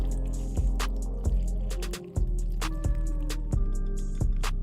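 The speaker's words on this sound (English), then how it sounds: "Next, add 3/4 cups of water." Water is poured into a pan of red pepper shrimp and pasta with tomatoes, giving soft splashing and dripping sounds over a steady low hum. Several small distinct drips and splats stand out.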